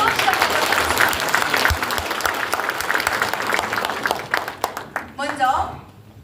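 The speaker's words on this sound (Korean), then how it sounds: "박수로 시작하겠습니다" An audience applauds at a Democratic Party committee launch ceremony in a hall at the Jeju Chamber of Commerce; dense clapping runs for several seconds, thins into a few scattered claps, and a voice speaks as it dies away.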